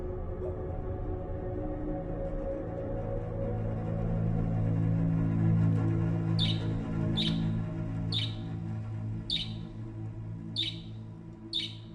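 A small bird chirps in a series of short, sharp calls repeating roughly every second, standing out over a low, steady ambient rumble.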